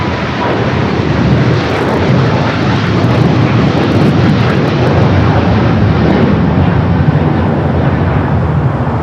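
Steady, loud jet roar from an airliner landing on runway 25 Right at LAX, a broad continuous rumble holding for the full nine seconds with no voices over it.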